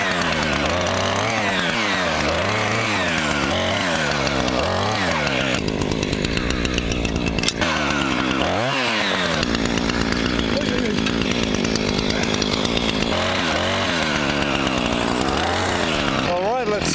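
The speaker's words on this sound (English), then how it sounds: "I'll let that run for a while because it's a brand new chainsaw." A brand-new chainsaw engine runs continuously and loudly nearby, its pitch rising and falling as it revs, with a voice briefly audible beneath the roar.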